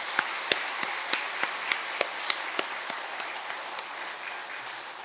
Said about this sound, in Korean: 잘 쉬셨다가 재충전해서 가시도록 박수 한번 크게 하시겠습니다